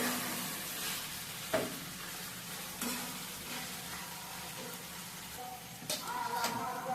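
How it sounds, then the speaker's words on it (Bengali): A ground chilli spice paste frying in a pan for chickpea curry: a steady close sizzle with periodic scraping strokes and soft knocks as the mixture is stirred, moderately quiet throughout. "এবারে সব উপকরণগুলো আমি আবারও ভেজে নেব কিছুক্ষণ"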